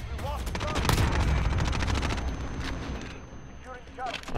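Light machine gun firing in a shooter video game, a sustained loud rattling burst of rapid shots with heavy low booms, fading out toward the end while voices talk over it.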